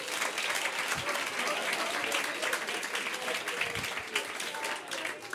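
An audience at a comedy show claps steadily, many hands blending into a continuous moderate wash, with a few louder individual claps standing out and faint murmuring beneath.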